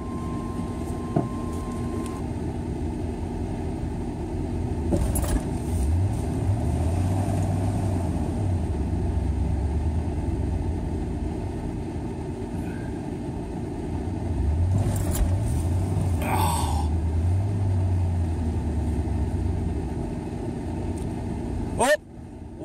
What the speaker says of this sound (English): He's using his brand new recovery kit to get me out of this shit.